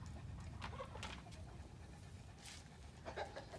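Rapid rhythmic breathy panting from Poppy, a Dogo Argentino, close by under a low background rumble, with short bursts of breath repeating through the whole stretch.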